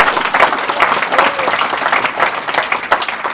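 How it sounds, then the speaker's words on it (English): An audience at a graduation ceremony for a prisoner reentry program claps loudly and continuously in a dense, sustained round of applause, close and full, with a few faint voices mixed in. "please give her a big, gigantic round of applause"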